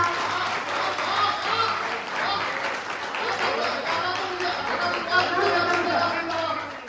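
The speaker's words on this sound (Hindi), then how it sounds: "इस पंक्ति में मुझे मेरे हिस्से की तालियां दे दीजिएगा।" An audience at a Hindi poetry recital of heroic verse breaks into steady, dense applause that carries on throughout, with voices mixed in underneath.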